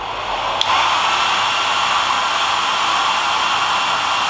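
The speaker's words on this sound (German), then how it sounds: "wenn ich jetzt die Haare trocken föhnen werde" A hair dryer blows steadily while drying hair, a loud continuous whooshing roar that switches on near the start and holds without change.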